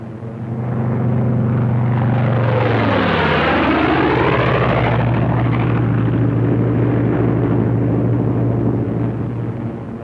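Thunderbolt fighter planes peeling off one after another from a loose string formation, a loud sustained propeller-engine roar that swells and sweeps in pitch as the aircraft dive past, then settles into a steady drone.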